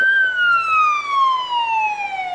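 An emergency vehicle siren at the Waupaca Hometown Days July 4 parade, a single loud, close tone sliding steadily downward in pitch.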